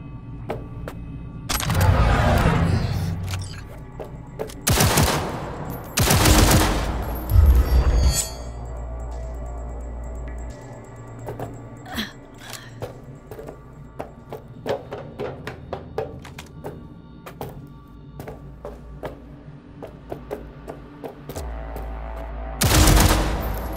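Guns fire in Cyberpunk 2077 during tactical target practice: loud, sharp bursts of automatic fire and single shots, close by, with clicks and taps between the volleys.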